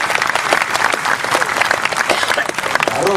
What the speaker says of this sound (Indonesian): Inilah Beben dan Suciwatejo, tepuk tangan semuanya.